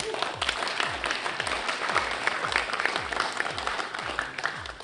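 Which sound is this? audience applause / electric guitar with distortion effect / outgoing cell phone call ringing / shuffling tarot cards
audience applause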